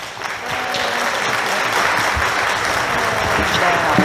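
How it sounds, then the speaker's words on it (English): Sustained audience applause for stage performers during a 2021 historical stage show, dense steady clapping from a large crowd throughout with faint background voices. "so let's keep up the applause"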